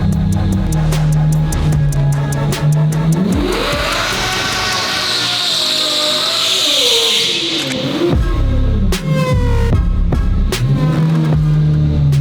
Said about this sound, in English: I'm gonna pull it out in the middle of the shop and get working on it.